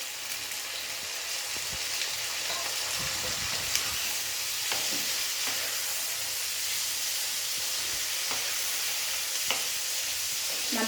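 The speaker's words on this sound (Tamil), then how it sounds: "தக்காளி பழமும் வெங்காயமும் நல்லா இந்த சமயத்தில் வதங்கி வந்துருச்சு" Tomatoes and onions frying in a pan for a Tamil mushroom thokku sizzle with a steady hiss, broken by occasional scrapes and clicks of stirring, close and continuous without talk.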